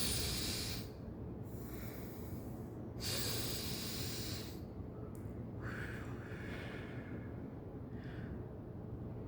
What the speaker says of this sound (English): I'm breathing through my mouth now.